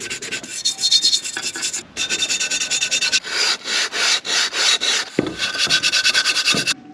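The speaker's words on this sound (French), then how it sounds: "voici le casque après décapage et ponçage" Steady scraping of abrasive against the metal shell of a Belgian M49 airfield firefighter helmet as it is stripped and sanded by hand, with close rhythmic rubbing strokes broken by brief pauses.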